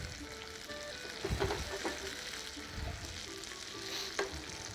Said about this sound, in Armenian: նորից տապակում ենք։